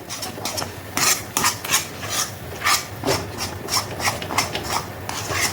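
A thick sago, peanut and makhana burfi mixture is stirred in a pan, giving repeated scraping, rasping strokes of a spoon against the metal in an uneven rhythm, close and moderately loud with no talking.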